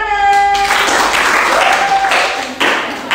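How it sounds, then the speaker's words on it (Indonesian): Students in a classroom give a short round of applause, a brief dense burst of clapping following a teacher's spoken praise, with voices audible at the beginning. "Ya, betul. Tepuk tangan."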